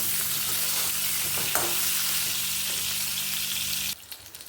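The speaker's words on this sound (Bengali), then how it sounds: "এবার এই তেলেই পটল দিয়ে দিচ্ছি পটলগুলো ভেজে নেব" Pointed gourd (potol), seasoned with turmeric and salt, frying in oil in a pan, giving a steady close sizzle with a faint stir partway through that cuts off abruptly near the end.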